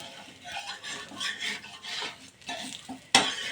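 Neer dosa batter fries with a steady crisp sizzle while a utensil stirs and scrapes in the pan, ending in a sharp metallic clatter near the close.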